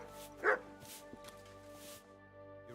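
A dog in the video game Kingdom Come: Deliverance 2 gives one sharp, fairly close bark, followed by quieter whimpering yips over a sustained musical background.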